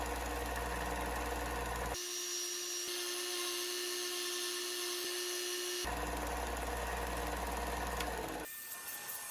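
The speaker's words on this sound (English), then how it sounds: "round those over just using the belt sander for hogging most of it off, and then the disc sander to fine tune them down to the marks" A belt sander and a disc sander grind wood into rounded shapes, the motors whining loudly and constantly, with pitch and tone shifting as work is pressed on and eased off.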